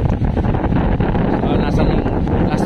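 Strong, steady wind buffets the microphone at Baler beach, a loud continuous rumbling roar with gusty surges and no let-up, covering the whole stretch.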